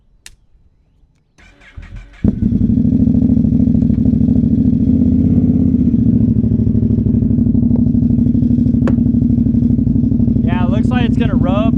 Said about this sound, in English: We're gonna do a little test ride here.